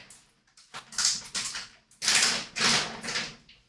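A dog whimpers and whines in a series of short, breathy bursts, some louder and closer than others, with no talk over it.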